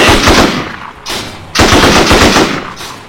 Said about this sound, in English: if I try and shoot him, I'm shooting the turret instead of him